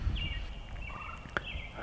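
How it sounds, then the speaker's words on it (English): Wild turkey gobbling outdoors during a spring hunt in Iowa: a faint, distant rapid gobble rolling out once over quiet background, with no talk. "I just got a gobble"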